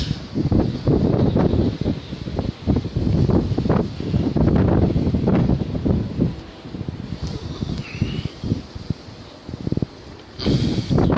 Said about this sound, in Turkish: Şu an itibariyle rüzgar hızı 200 km'ye ulaştı.